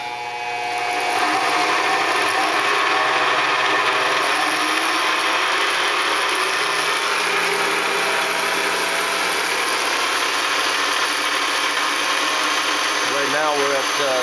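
A Bridgeport milling machine driven by a DC motor on a speed controller spins up and holds a steady, high-pitched whine that keeps rising slightly, running alone with a faint voice at the end.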